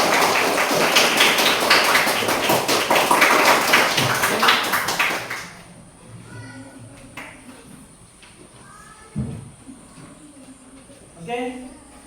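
A classroom of students claps hands together on a teacher's command, a dense burst of overlapping claps for about five seconds, then stopping abruptly into a quiet room with a few faint taps and movements.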